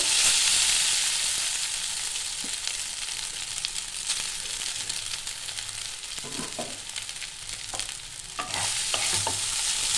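Chowmein noodles, drained and oiled, tossed and lightly fried in a hot oiled pan with steady sizzling and stirring scrapes throughout, close and fairly loud, with no talking.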